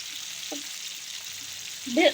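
Koi fish frying in a pan make a soft, steady sizzle with a faint clink partway through and a louder spatter as the fish is flipped at the end.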